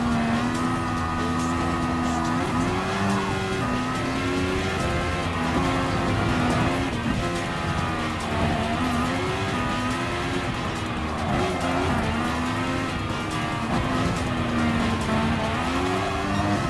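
Race cars in Gran Turismo Sport roar through a final lap of a Mercedes AMG Grand Prix event, engines droning loudly and steadily with rising and falling pitch as they shift gears, with occasional tire squeal.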